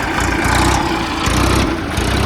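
A farm tractor engine idles loud and close, a steady low throbbing rumble with slight surges in intensity and no talk over it.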